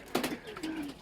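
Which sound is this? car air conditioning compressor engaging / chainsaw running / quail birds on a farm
quail birds on a farm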